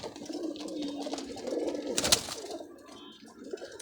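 Silver pigeons coo softly on a rooftop in a low, rolling murmur, with a brief rustle midway and no talking.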